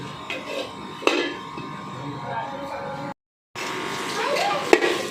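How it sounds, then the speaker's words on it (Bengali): A lid is set on a kadai of simmering ridge gourd dal with potatoes, giving a couple of sharp metallic clanks over a steady background hiss while someone talks nearby. "এবারে একটা ঢাকনা চাপা দিয়ে দিচ্ছি"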